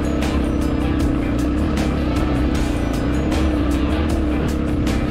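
A Suzuki DR-Z 250 adventure motorcycle rides along a trail, its engine droning loud and steady throughout with rough, gritty noise layered over the motor.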